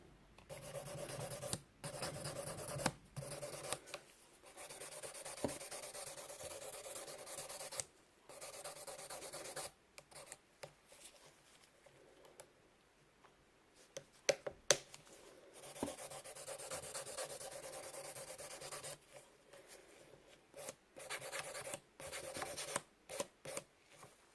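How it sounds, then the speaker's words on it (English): A nail tip on a practice hand being filed and blended with a very fine grit file: faint, close, raspy strokes in bursts, broken by short pauses and a quieter stretch midway. "it's time to get the very, very fine grit to not to hurt your client's nail"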